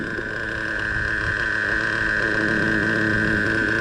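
Traxxas Revo 3.3 nitro RC truck engine idling low, a steady buzzing drone with a sustained whine that holds evenly for the whole stretch, close and fairly loud with no talk.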